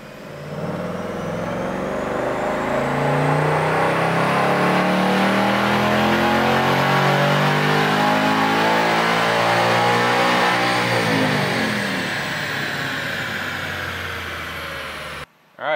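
2024 Ford Mustang Dark Horse engine pulling hard on a chassis dyno in fifth gear, a loud, steady, rising roar that climbs in pitch for about eleven seconds, then eases off and drops away.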